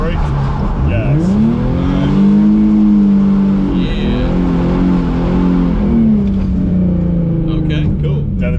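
A car revs up hard and slides through a handbrake drift turn, the engine climbing in pitch and then holding a strained, wavering drone with tire noise, close and loud, with voices talking over it.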